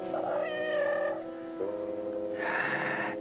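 A cat lets out long, wavering meows close by, one drawn-out call sliding into another, with no talking.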